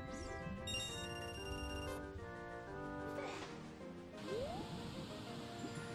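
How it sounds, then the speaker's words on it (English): A telephone rings in a room during Zelda Ocarina of Time gameplay, a steady repeating electronic tone heard faintly amid other game sounds, with no talking. "ignore the phone, hopefully someone else is gonna pick that up"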